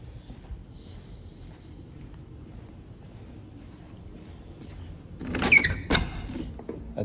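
A cabin balcony door at a Gatlinburg, Tennessee rental is opened with a short burst of latch clatter and rattling about two-thirds through, following a long stretch of quiet room tone.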